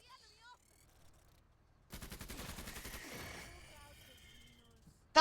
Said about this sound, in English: That machine gun is brutal!